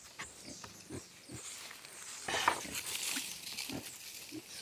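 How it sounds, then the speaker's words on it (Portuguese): Pigs on a farm grunt and oink repeatedly after a meal, with short snorting calls and scuffling close by, plus a louder squeal-like burst partway through. "soltar esses porcos que já comeram"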